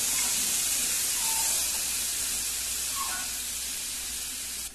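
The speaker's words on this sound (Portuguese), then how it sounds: "E vou colocar a cebola para fritar." Half a large onion, finely chopped, sizzles with 250 grams of bacon in a pan, giving a steady, close frying hiss that eases off slightly toward the end.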